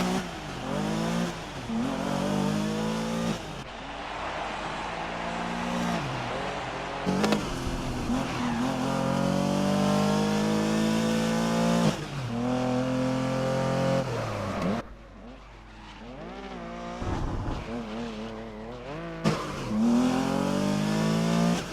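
Porsche race car engine in the racing game GRID (2019), heard in a replay: loud, continuous revving with repeated rising and falling gear changes, sharp upshifts and brief drops in power, no talk.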